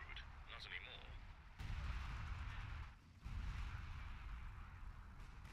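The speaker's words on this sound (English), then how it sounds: "in the face of all this artillery" Heavy artillery fire booms from a WWII strategy game battle at Caen, a dense, continuous rumble of blasts and bursts with brief lulls, loud and sustained throughout.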